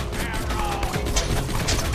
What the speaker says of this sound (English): Would you guys stop shooting me for like 1 second?